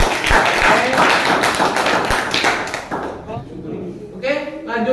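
Classroom applause for a student group, a burst of clapping with taps and thuds over a room murmur, fading after a few seconds as faint voices remain.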